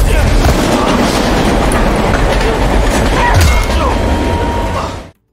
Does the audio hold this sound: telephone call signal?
no